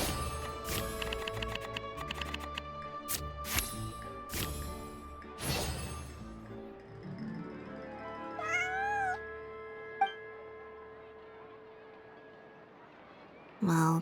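A cat meows in the video game Genshin Impact, with several short mews over background game music, and a brief louder burst near the end.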